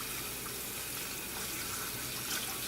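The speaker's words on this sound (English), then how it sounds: "We're also going to rinse this in the same way as we did the bok choy, cold water." Cold tap water runs steadily into a sink while vegetables are rinsed for chop suey, a constant, close rushing splash with no talk over it.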